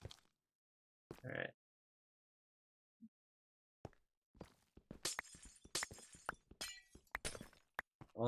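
Glass blocks breaking in Minecraft, a few scattered crisp shattering hits at first, then a denser cluster of quick breaks, close and moderately loud with silent gaps between.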